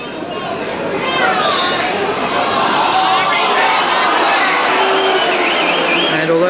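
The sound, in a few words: football stadium crowd reacting unhappily to a referee decision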